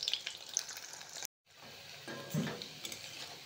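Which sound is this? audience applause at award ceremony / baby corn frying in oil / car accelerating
baby corn frying in oil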